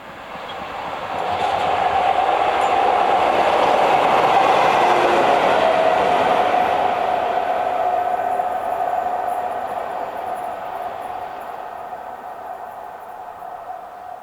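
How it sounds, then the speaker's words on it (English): Class 47 diesel locomotive number 47802 passes through, its engine swelling loudly to a peak then fading steadily into the distance with a sustained drone and no voices. "Shadowing the tour since Bristol was Class 47 number 47802 and heads through around 10 minutes before Bahamas."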